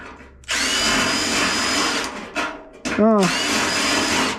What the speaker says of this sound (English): let me come in with the drill